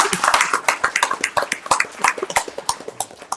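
A town council meeting audience applauds a new councilman's appointment, giving a brisk, dense round of clapping heard up close for several seconds.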